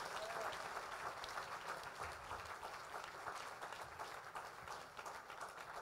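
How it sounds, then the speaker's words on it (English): A church conference congregation in Accra, Ghana claps in a steady wash of many hands, faint and distant, continuing without a break. "Oh, clap your hands, somebody."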